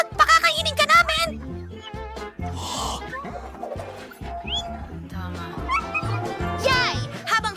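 A cartoon dog barks and yips in short bursts, mixed with animated characters' excited voices and background music.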